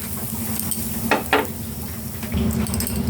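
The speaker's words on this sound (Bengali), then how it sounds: "এবার সুজিটা আমি লাল করে ভেজে নেব।" Semolina frying in ghee with a bay leaf in a frying pan, giving a steady sizzle with a couple of distinct scraping stirs of a spoon across the pan.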